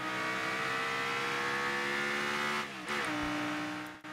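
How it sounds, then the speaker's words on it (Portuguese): A Rocket League car engine holds a loud, steady, droning rev that stays close and even, then briefly dips and surges near the end. No voices accompany it. "E olha o motor desse carro."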